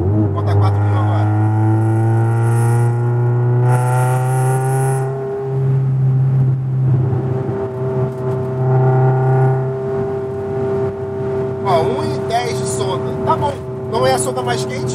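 A Ford Escort with a Zetec engine revs up and holds near 4000 rpm, a loud steady engine drone with rising harmonic tones and brief pitch shifts, running continuously close by with people talking over it.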